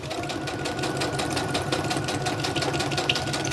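Sewing machine stitching around paper junk journal folios, a fast, even mechanical chatter of the needle running continuously at moderate volume, with no talking.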